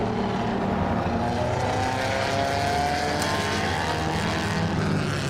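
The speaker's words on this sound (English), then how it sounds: "in the Alfa Romeo 8C Zagato Spider from 1932" A 1932 Alfa Romeo 8C Zagato Spider racing on track at a historic motor race gives a continuous, loud engine roar that stays steady and dense throughout, with no voices.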